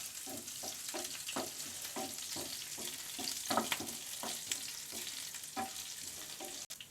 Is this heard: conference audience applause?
no